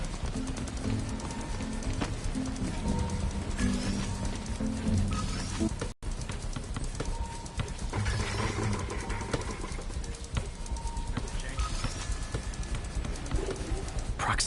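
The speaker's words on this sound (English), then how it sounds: "And if I startle the bird, it'll drop the Spider-Bot and break it. This pigeon's strong." A pigeon in the Spider-Man PS4 video game coos repeatedly with soft throaty calls over steady game ambience of city noise and footsteps, with some scattered clopping sounds.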